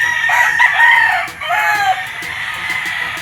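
A red kelso gamefowl stag crows loudly and close, one long strained crow followed by a second, with faint background noise.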